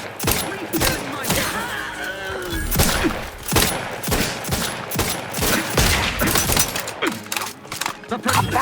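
Gunfire in The Outer Worlds 2 firefight, with loud rapid shots and booming impacts recurring throughout and a voice speaking at times over the fighting.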